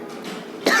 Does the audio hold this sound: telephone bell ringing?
no